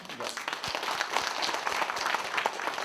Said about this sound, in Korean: 큰 박수로 보답하고 싶습니다